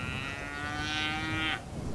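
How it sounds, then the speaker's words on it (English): Cattle on a ranch give one long, drawn-out moo that lasts over a second and then stops, fairly close and clear, with no voices. "there are three head of cattle, including Rosie, and a little guy named Har"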